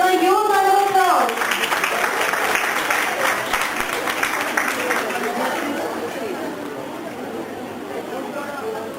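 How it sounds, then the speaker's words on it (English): Conference audience in a college hall gives dense applause for guests taking the stage, starting right after a voice speaks and then slowly fading over several seconds amid crowd murmur. "Please give them a huge round of applause."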